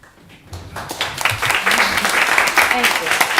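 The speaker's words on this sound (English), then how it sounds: "I definitely appreciate the applause" Applause at a village council meeting swells up after a quiet start as attendees welcome a newly introduced police officer, with some talk mixed into the clapping.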